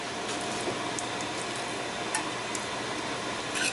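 Chicken thighs fry in a skillet over high heat with a steady, dense sizzle and occasional light clinks and scrapes of a utensil, with no talking.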